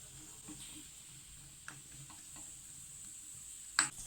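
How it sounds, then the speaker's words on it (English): Quiet, steady sizzling of green chilies frying in a little hot oil, with a few soft clinks from stirring and one sharper knock near the end. "we can heat 1 spoon cooking oil, green chilies and saute it"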